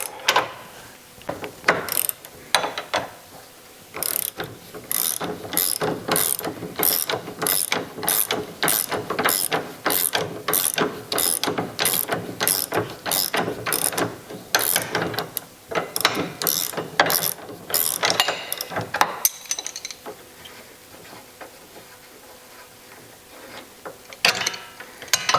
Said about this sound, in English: Just going to undo our drop link.